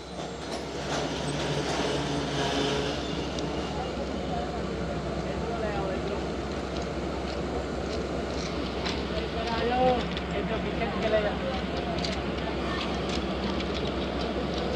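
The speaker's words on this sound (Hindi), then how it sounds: "तो सामने मौजूद है ZCU30 के साथ 14 डाउन अवाम एक्सप्रेस।" The 14 Down Awam Express train hauled by a ZCU30 locomotive arriving at a station, a continuous loud rumble and rolling clatter of wheels and carriages close by, with faint chatter around it.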